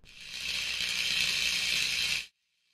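A recorded drill reworked with EQ and distortion into a sci-fi tank leg motor gives a steady, bright mechanical whine that swells in, holds for about two seconds, then stops dead.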